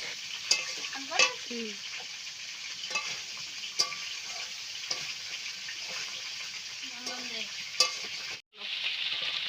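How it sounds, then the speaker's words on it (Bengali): Cauliflower being stir-fried with dried chilli paste, ginger-garlic paste and slit green chillies, a steady sizzle broken by scraping stirs of a spatula, with a sharp cut-off near the end before the frying noise returns. "শুকনো লঙ্কার পেস্ট আর আদা রসুনের পেস্টটাও আমি ফুলকপির ভিতরে দিয়ে ফুলকপিটাকে ভালোভাবে কষিয়ে নেব"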